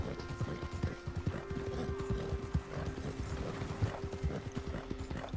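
Horse hooves clip-clopping in a steady trotting rhythm inside the Red Dead Redemption 2 video game, close and continuous for the whole stretch, with a faint game ambience beneath and a few louder hoof strikes.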